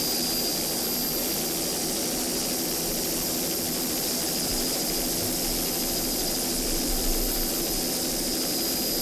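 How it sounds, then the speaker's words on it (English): A 35-foot Cigarette offshore racing powerboat with twin big CNG Cobra motors roars steadily at speed. The dense, continuous engine drone and whine stays loud and even, with no voices. "Powered by a pair of big CNG Cobra motors."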